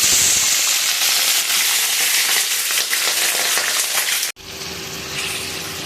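Bay leaf and onion fry in a hot pan, a dense, loud crackling sizzle that cuts off abruptly near the end, leaving a quieter hiss.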